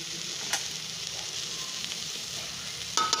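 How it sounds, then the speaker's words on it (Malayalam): Grated coconut hits a hot pan for a colocasia leaf and lentil thoran, giving a steady soft sizzle with a couple of sharp scraping stirs, heard close and fairly quiet. "വെച്ചിരിക്കുന്ന തേങ്ങ ഇട്ട് കൊടുക്കാം"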